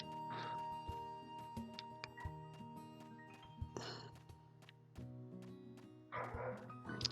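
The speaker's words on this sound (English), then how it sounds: "I can hear both dogs barking." Two dogs barking and yipping outdoors in the farming game Harvest Moon: Hero of Leaf Valley, short barks scattered through a steady game soundtrack with bright tones.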